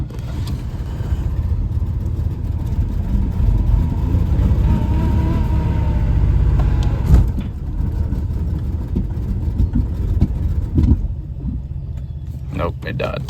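A 1993 Oldsmobile Cutlass Ciera engine runs with a low rough rumble and uneven revving, then falters and stalls out near the end, with people talking over it.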